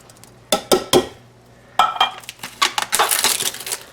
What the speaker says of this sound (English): Then I'm going to put my mushrooms in.